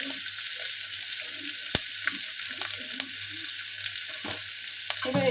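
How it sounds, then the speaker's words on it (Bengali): Thinly sliced onions fry lightly in mustard oil, giving a steady, soft sizzle with a few sharp clicks and clinks of a utensil against the pan. "এবার এটাকে খুব হালকাভাবে আমি ফ্রাই করব।"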